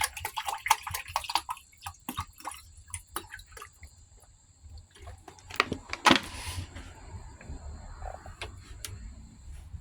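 Water being added to and stirred through a container of burnt IC chip debris full of carbon and plastic sediment, heard as close, irregular drips, splashes and sloshing swirls that swell briefly near the middle.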